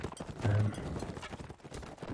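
Horse hooves clip-clop in a video game, a run of quick, hollow hoof beats at moderate volume over a busy in-game sound bed, with a faint voice underneath.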